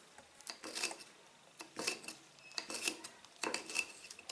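Garlic and red chili are ground for sambal, likely with a pestle in a mortar, making repeated scraping and clinking strokes in several close bursts with short pauses between them.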